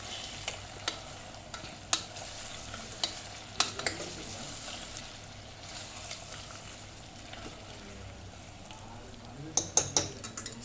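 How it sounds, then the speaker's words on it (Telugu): Spicy bone curry is stirred in a pot after salt goes in, a soft sizzle running under repeated scraping and clinking of the spoon against the pan, with scattered sharp knocks. "కొంచెం లడ్డు ఉప్పు వేసుకున్నాక మళ్ళీ కలుపుకుందాం"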